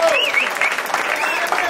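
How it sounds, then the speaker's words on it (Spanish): Applause for timbalero Eddie Rivera fills a lounge at a mambo jazz anniversary show, a dense steady wash of clapping with a voice speaking over it throughout. "Vamos a dar un aplauso a Eddie."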